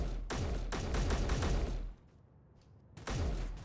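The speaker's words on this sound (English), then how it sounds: "Shoot at him, Robert." Rapid automatic gunfire from the video game Space Engineers rattles out in two loud, dense bursts, a long one followed by a short pause and then another burst.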